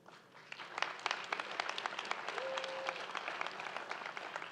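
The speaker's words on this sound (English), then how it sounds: "As we applaud you for your academic success" An audience applauds Dean's List scholars at a Founders Day ceremony, sustained moderately distant clapping from a crowd with a brief tonal sound in the middle.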